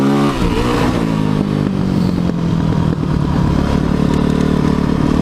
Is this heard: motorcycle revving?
yes